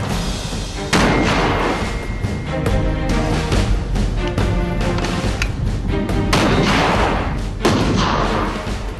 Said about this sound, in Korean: 90mm 무반동총의 시범 사격이 발사되기 직전